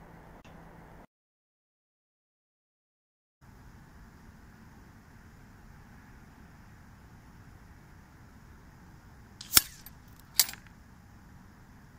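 An IZh-60 air rifle fires at a target from a distance, heard from beside the target as two sharp, brief cracks close together against a quiet outdoor hiss, after an early stretch of silence.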